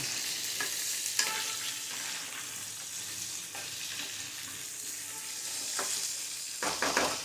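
Chickpeas and other food frying in a pan are stirred, with scraping strokes repeating over a constant soft sizzle and no voices.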